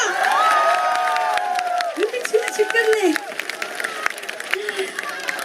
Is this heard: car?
no